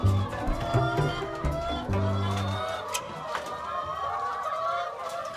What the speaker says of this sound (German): Tagwach bei den Hühnern.